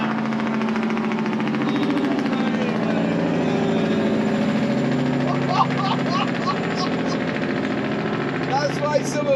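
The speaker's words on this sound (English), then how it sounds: "some places you're not allowed to use the engine brakes." A truck's engine brake working on a downhill, a loud, steady, rumbling drone with a rapid pulsing texture that carries through the whole stretch, with a person talking over it.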